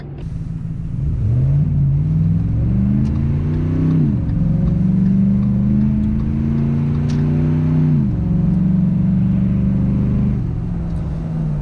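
A truck engine pulls away under light, roughly half throttle, its tone rising smoothly, dipping at gear changes around four and eight seconds, then climbing again, close and steady with no talk.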